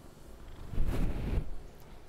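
A domestic cat purring close by, a soft low rumble that swells in the middle and fades again, with no talking.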